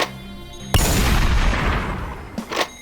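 Hyper Sniper 4 firing in a video game, a single loud booming gunshot followed by a long decaying rumble, then a couple of smaller bursts near the end.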